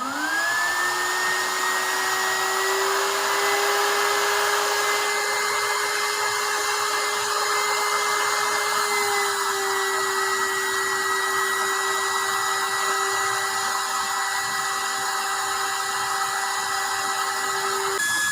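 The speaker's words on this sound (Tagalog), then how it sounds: "Isaksak natin blower." An electric blower fans the fire of a used-oil burner stove, giving a loud, steady whirring hum that spins up at the start and holds constant throughout, with no talk.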